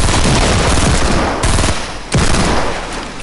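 Gunshots in the video game Fortnite: a loud, dense stream of rapid fire close up, breaking off briefly twice and then resuming at full strength.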